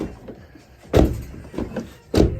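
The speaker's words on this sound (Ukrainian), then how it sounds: "Щолкає, відкривається, закривається." A Seat Altea car door lock clicks and the door thunks open and shut in a few distinct, close knocks and clunks.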